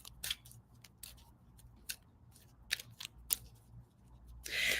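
A deck of cards being shuffled during a quiet tarot-style reading, giving scattered soft riffling snaps and clicks at irregular intervals over a faint low hum, ending in a brief rustle.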